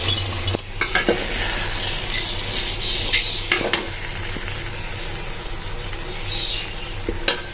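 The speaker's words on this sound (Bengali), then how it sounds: "এখন এই চালগুলো এই মশলার ভিতরে দিয়ে দেব।" Washed rice tipped into spices frying in a pot for khichuri and stirred, giving a steady close sizzle with scraping and clinking of a spoon against the pan, no talk.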